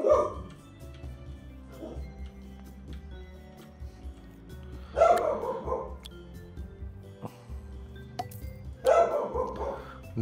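A dog in the hospital management game Two Point Hospital barks in three short bursts, at the start, around the middle and near the end, over a steady bed of game music.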